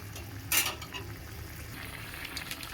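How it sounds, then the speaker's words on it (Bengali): Tangra fish curry cooks in a pan on the stove with a low continuous sizzle and bubbling, one sharp utensil clatter near the start, close and fairly quiet, no talk. "এটা এবারে টকবক করে ফুটবে যদি দেখুন এবারে টকবক করে ফুটছে"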